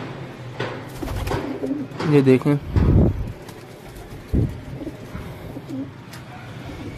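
Pigeons coo nearby in soft, throaty bursts while a person speaks briefly and things rustle and bump close by.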